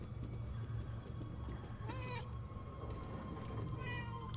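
Two drawn-out cat meows a couple of seconds apart in the video game Murdered Soul Suspect, moderately loud over a steady low ambient hum.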